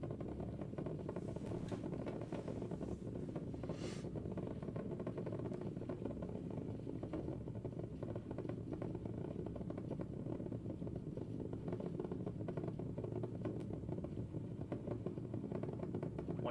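Integrity, the Artemis II rocket, roars through its launch ascent as a deep, continuous rumble. The sound stays steady and heavy for the whole stretch, with no voices over it.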